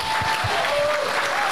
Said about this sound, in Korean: 박수 한번 올려주십시오.